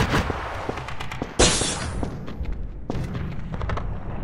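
A grenade blast in the video game E.Y.E. Divine Cybermancy: one sudden loud explosive burst midway through, among scattered gunshots and thuds before and after.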